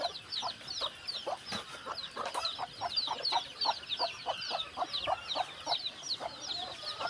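Desi hens and chicks inside a chicken coop, with the hens brooding, make steady, closely spaced clucking and peeping throughout. The calls are near and moderately loud, with no voices.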